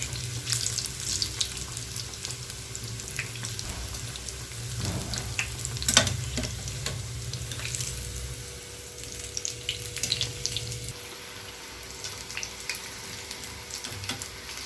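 Capsicum bajji, battered peppers, sizzle and crackle steadily in hot oil, a continuous bright frying hiss with a low hum beneath and occasional louder spits and a clink near the middle.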